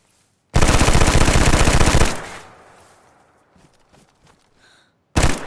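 A loud, continuous burst of automatic gunfire in the DayZ video game lasts about a second and a half, tailing off into echoing reverberation and scattered faint clatter before another burst starts abruptly at the end.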